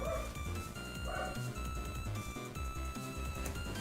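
A dog barking at someone outside, dense and continuous with layered yaps and whimpers over a loud steady background, no clear gaps between sounds.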